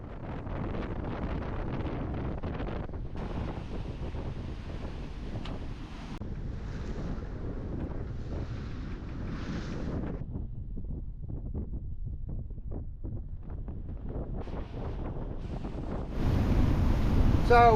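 Strong wind of about 25 to 28 knots roars across a sailing boat in the Sound of Mull, Scotland, with waves washing against the hull in a continuous loud rush that swells even louder near the end.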